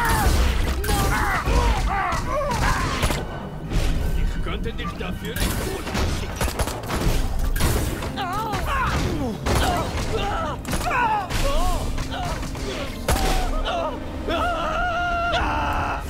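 Rapid small shots firing in Destroy All Humans 2: Reprobed amid clattering effects and chaotic character cries, with a voice talking over the action.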